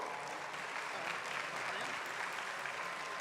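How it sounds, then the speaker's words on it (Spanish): A crowd applauds steadily for a few seconds after a medical conference lecture, a dense wash of clapping with no pauses. "¿Podemos darle un aplauso a Alejandro, por favor?"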